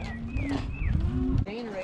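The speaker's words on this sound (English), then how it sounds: "So these are all the cows we've gathered so far." Cattle gathered in a herd let out a close, loud moo with a rising and falling pitch, joined by a second, shorter call near the end.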